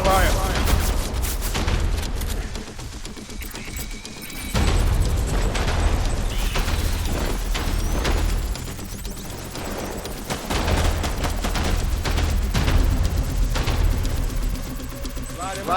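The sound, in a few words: gunfire and explosions from video game Death Stranding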